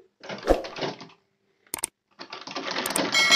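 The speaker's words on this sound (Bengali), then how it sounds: "এই যে সেলাই সামনের দিকে চলে আসছে" Sewing machine stitching fabric while its feed is adjusted, with two short bursts of rapid mechanical clatter separated by a pause and a quick click, close and fairly loud.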